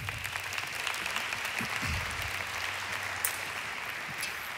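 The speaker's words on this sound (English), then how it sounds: "Let's appreciate and applaud the Lord as they come." A church congregation applauds in a steady, moderate wash of clapping, with a few faint low murmurs and a brief sharp knock partway through, heard from within the room.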